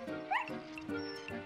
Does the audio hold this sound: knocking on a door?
no